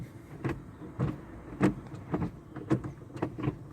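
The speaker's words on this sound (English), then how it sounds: "Go ahead and roll the window back up." A Hyundai Pixo's electric window motor whirs as the glass rolls back up inside the small car, in a steady run of several short pulses, close and fairly quiet with no talking.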